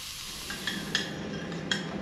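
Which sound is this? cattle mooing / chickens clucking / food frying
food frying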